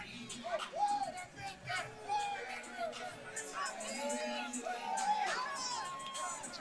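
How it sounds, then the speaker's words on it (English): Fight fans cheer and shout at a Fierce Fighting Championship bout, an excited mix of whoops and raised voices with talk running through it. "This crowd is going crazy."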